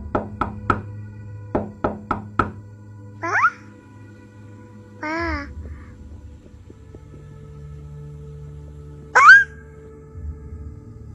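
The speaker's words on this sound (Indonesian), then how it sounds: "ada suara ketukan pintu dari tangan mungil yang terus-menerus menggemakan kalimat" Horror story sound effects of small hands knocking on an apartment door: a quick run of sharp, loud knocks at the start, followed by scattered eerie tones and thuds over a low hum.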